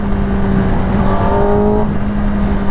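A 2022 Kawasaki ZX10r engine held at a steady, close throttle, whirring with a constant tone that rises briefly partway through.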